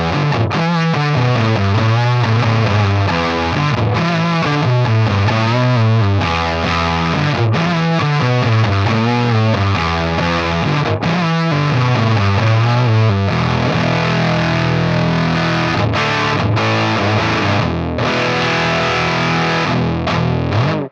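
An electric guitar played through a fuzz pedal into a MIKKO Reflex amp modeler gives thick, saturated distorted riffs with chugging rhythmic chords that give way to longer sustained fuzzy notes, loud and continuous with no talking.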